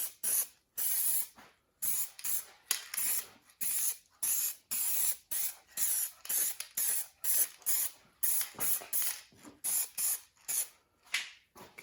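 A spray gun laying a gray base coat on a 1968 Mustang, heard as a rapid series of short, close, hissing bursts of about half a second each, separated by brief silences, with no speech.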